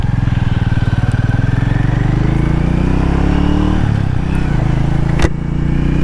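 A Hero Mavrick 440 motorcycle on the road, its engine pulsing loud and close in a fast even rhythm, pitch climbing as it accelerates, dipping briefly for a gear change near the end before pulling again; no talking.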